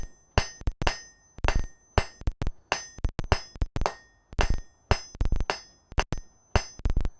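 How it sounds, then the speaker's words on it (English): Hammer blows forging hot quarter-inch mild steel at a smithy anvil ring out in a steady rhythm of sharp metallic strikes, often in quick pairs, loud and close with no talk. "At this temperature, I can continue forging it a little bit"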